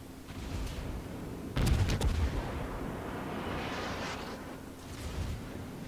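Naval guns of the USS Pensacola fire in World of Warships, a heavy, booming salvo that erupts suddenly with a deep rumble, then rolls away into a long fading roar with a softer echo near the end.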